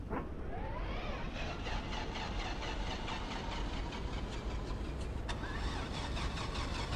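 Engines of an Aerobask DA42 twin-engine aircraft starting up in a flight simulator, a steady loud droning engine tone that holds throughout with no talking.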